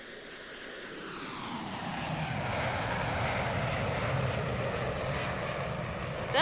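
Fixed-wing aircraft engine passing in a flyby, a broad droning roar that swells gradually and holds steady at moderate distance, with no talking.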